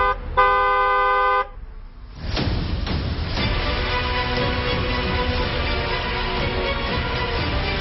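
A car horn sounds a sustained, loud blare for about a second, then gives way to a steady wash of road traffic noise with a couple of thuds.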